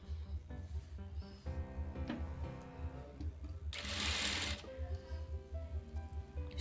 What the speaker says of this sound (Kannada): ಮೇನ್ ಪೀಸು ಮತ್ತು ಲೈನಿಂಗ್ ಮಧ್ಯದಲ್ಲಿ ಇಟ್ಬಿಟ್ಟು ಇದನ್ನು ಸ್ಟಿಚ್ ಮಾಡ್ಕೋಬೇಕು